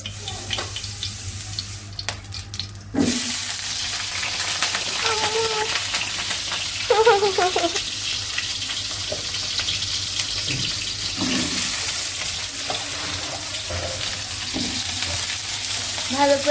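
Steady sizzling of potatoes frying in a pan, with occasional clinks and scrapes of stirring, close by and fairly loud throughout; a brief voice murmurs at times.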